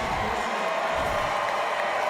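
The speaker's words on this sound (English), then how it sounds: "And the crowd is barking in support. Listen to them." Rugby playoff semifinal crowd of Chicago Hounds supporters barking and cheering, a dense, steady roar of many voices throughout with no distinct single shouts.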